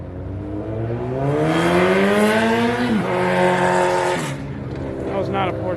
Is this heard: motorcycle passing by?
yes